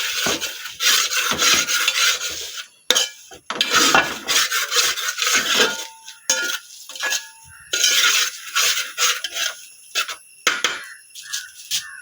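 Food being stirred in a hot pan on a gas stove until it browns, a spoon scraping and rasping against the pan in repeated bursts with short pauses, close and fairly loud, no talking.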